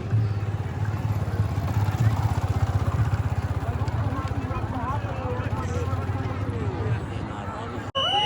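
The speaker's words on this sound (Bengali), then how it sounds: "অনেকটা পথ হাঁটা এড়ানোর জন্য বাইক নিয়ে এগিয়ে যাচ্ছি" A motorcycle engine putters steadily at close range while riding through a dense crowd at the Maha Kumbh Mela in Prayagraj, murmuring and chatter all around, ending with a brief dropout.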